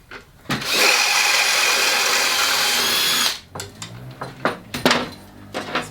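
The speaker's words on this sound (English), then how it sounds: "All I'm doing is drilling out, there's a rivet in the feet and a rivet at each end of the side" Power drill boring out rivets on the steel feet and side supports of a budget DIY campervan step, one loud sustained whine of about three seconds, then scattered clanks and taps of metal parts being handled nearby.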